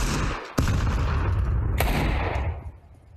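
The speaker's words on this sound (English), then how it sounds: "Throwing a grenade." Grenade thrown and exploding in a video game, with heavy rumbling booms and a sharp blast cracking near the start, then another loud bang before the roar fades away.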